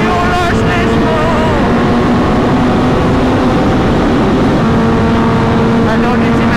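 A Kawasaki H2 motorcycle accelerates hard on an open road, its engine roaring loudly and rising in pitch as it pulls away, with heavy wind rush throughout.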